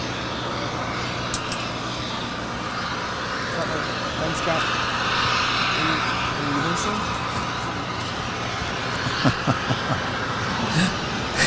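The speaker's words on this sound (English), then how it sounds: "This is ETA Airways departing there on the north side to Rome. It's flight 621 on an A350 900." An Airbus A350-900 jet departs from the north side of LAX, heard as a steady, broad, distant roar with a hissy edge that swells slightly mid-clip, while people talk over it.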